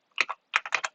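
Quick bursts of computer keyboard typing, two short clusters of crisp key clicks close up with a brief pause between them.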